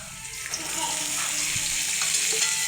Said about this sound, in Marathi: आता याच्यामध्ये एक पळी तेल घालून घेऊया